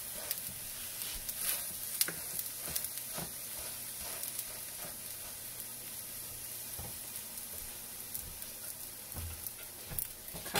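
A spinach omelet sizzles steadily in a frying pan, a continuous close crackling hiss with occasional louder pops and soft scraping, no voices.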